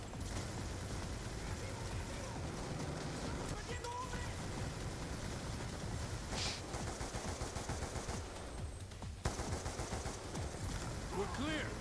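Gunfire in the Call of Duty: Black Ops 2 mission Celerium, dense automatic shooting and explosions rattling on throughout a battle amid game sound effects, with voices talking over it.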